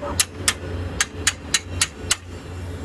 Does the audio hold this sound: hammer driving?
yes